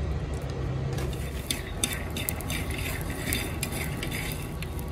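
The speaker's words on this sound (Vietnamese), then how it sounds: "Mình cho vào ít muối và đậu phộng mình rang." Peanuts with salt roast in a pan as they are stirred, giving a continuous dry rustling sizzle broken by scattered light scraping clicks from the utensil.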